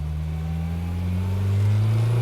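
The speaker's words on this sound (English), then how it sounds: "when it's driving along, it actually sounds quite turbo-y, you know? With some load." A light turbocharged Gemini car weighing under a ton accelerates under load, its close engine drone climbing steadily in pitch and growing louder, with no talking.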